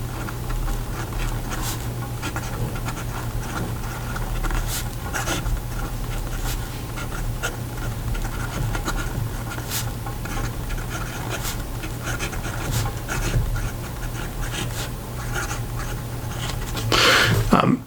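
An Opus 88 Picnic fountain pen with a medium steel nib writes on paper, producing soft, close scratchy strokes with irregular pauses over a low steady hum, no talking.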